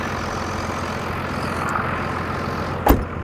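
A diesel engine idles with a steady low rumble throughout, close and continuous, ending with a brief sharp knock.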